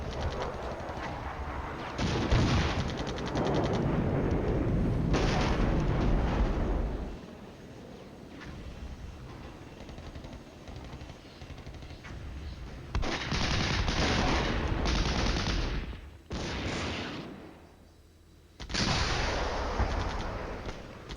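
Bombing and gunfire in the Cold War strategy game Flashpoint Campaigns: Cold War: loud, dense bursts of artillery and machine-gun fire come in waves, with quieter rumbling lulls between them.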